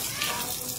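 Water splashes steadily onto a car's brake caliper to rinse away leaked brake fluid, a close, continuous hissing pour with no clear breaks.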